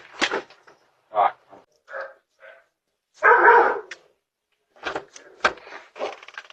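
A dog barks in a series of separate, loud, close woofs and yips, with short silences between them and one longer harsh burst in the middle.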